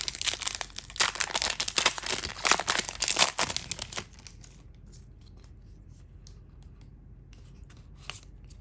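Flesh and Blood trading card booster packs, first-edition Monarch, being ripped open with close crinkly foil tearing and crumpling for about four seconds, followed by faint quiet rustles.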